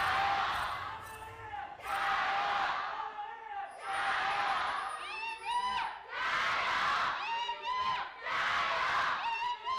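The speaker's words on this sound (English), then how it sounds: "The crowd is actually getting louder as this series has gone on." Arena crowd at an LPL League of Legends match between Team WE and Edward Gaming roars in repeated loud surges separated by short dips, with caster voices talking over the swelling cheers.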